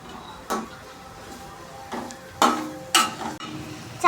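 Cabbage with turmeric and chili spice mix being stirred in a pan, with several separate scraping, clattering strokes of a utensil against metal over a soft background, the knocks growing more frequent toward the end.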